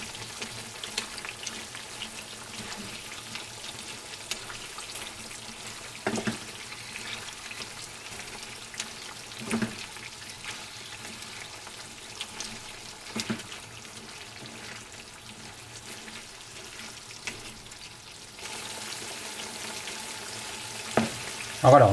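Onions and potatoes frying in a pan for a Spanish tortilla: a soft, steady sizzle with occasional clinks and stirring scrapes, quiet and continuous without talk.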